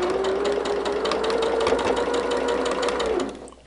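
A sewing machine runs a short burst of quick stitching on a quilt block in a sewing room, close and even, slowing to a stop at the end.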